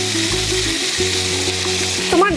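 Ground cumin paste sizzling loudly in a hot pan for a Bengali dish, a dense continuous fry with tonal background hum and a brief clatter at the end, no speech.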